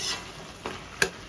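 A cook stirs fried prawns into a pan of bottle gourd and chana dal with chopped coriander, giving a soft steady sizzle and a couple of short scraping stirs, close and moderately quiet, with no talking.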